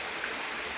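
Floodwater rushing over rural waterfalls, a steady broadband roar with no breaks, loud and close throughout.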